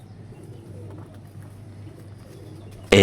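Pigeons coo with soft, steady low murmuring throughout, fairly close, ending in a sudden loud burst of noise.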